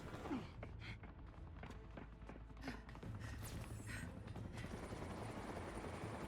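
Helicopter in the Telltale Batman video game, a steady whirring rotor roar that builds and holds loud and close through the moment, with brief game effects and no speech over it.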